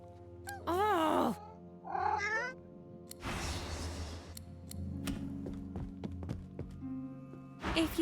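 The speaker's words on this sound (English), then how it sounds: "The cat and the dog appear to be arguing." Cat meowing in the video game Divinity: Original Sin 2: two drawn-out, wavering meows close up, followed by thumps, shuffling noise and a few clicks, with a final meow-like cry at the end.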